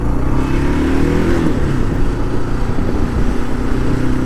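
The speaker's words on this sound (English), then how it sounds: "I'm not used to turning on big vehicles like this." A big motorcycle, a 2008-or-later facelift model, runs loud and close. Its deep engine rumbles steadily throughout, with a brief rising whine early on.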